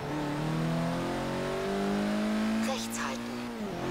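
A Ford Focus in Forza Horizon 3 driving a road, its engine droning steadily and rising in pitch as it accelerates, close and loud throughout, with a brief sharp tire or effect sweep near the end.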